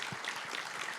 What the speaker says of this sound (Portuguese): Queria pedir uma salva de palmas para o João Romano, brigadista lá de Alter